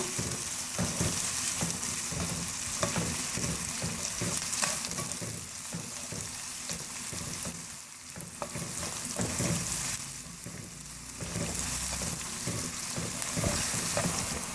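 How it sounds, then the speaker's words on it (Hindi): Onions fry on a medium flame for an arbi and brinjal sabzi, a steady moderate sizzle with repeated scraping stirs throughout, no voices. "प्याज को हम मीडियम फ्लेम पर फ्राई कर रहे हैं।"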